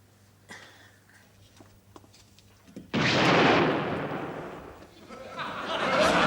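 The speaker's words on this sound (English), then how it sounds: "The deodorant blew up." A deodorant can bursts indoors with a sudden loud, broad blast followed by a sustained rushing hiss that tapers and swells again, after a few faint taps and sounds of handling.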